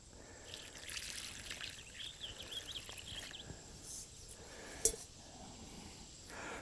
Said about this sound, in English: I water it.